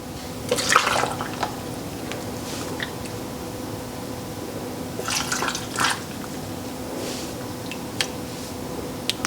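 Canning liquid is poured into pint jars packed with fresh green and yellow beans. Short, splashy bursts of trickling liquid come at intervals, fairly close but soft, over a faint low background hum, with no speech.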